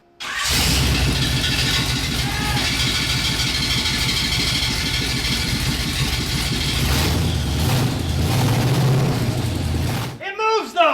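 A Chevy V8 swapped into a rear-wheel-drive Honda CRX runs loud and close, a steady low rumble that rises and falls slightly, with a brief shift in tone before it cuts off near the end; voices are faintly present.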